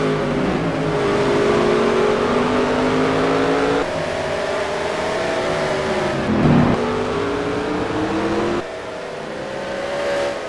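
Stock car engines in the NR2003 racing sim at Sonoma drone steadily at high revs, several cars close together with pitch rising and falling through gear changes and a brief louder pass midway, no voices.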